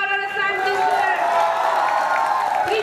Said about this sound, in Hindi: 3 cheers for Aral Santi